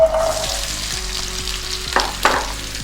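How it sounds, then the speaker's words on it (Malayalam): Chopped Indian gooseberries sizzle in sesame oil for a pickle, a loud, close frying hiss broken by a few louder stirring scrapes and splutters toward the end. "ഇനി ഈ എണ്ണയിലേക്ക് നമ്മൾ അരിഞ്ഞു വെച്ച നെല്ലിക്ക ഇടുന്നു"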